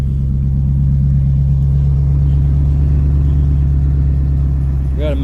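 A Chevy car engine runs just after a cold start in snow, a loud steady low rumble with an even idle throb that holds throughout, close to the listener.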